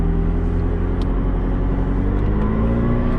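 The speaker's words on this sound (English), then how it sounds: "You can hear the noise coming out of the back of the engine there." A 2019 McLaren 600LT pulling out of a driveway, its engine giving a loud, steady close rumble with a droning tone from the rear and no talk over it.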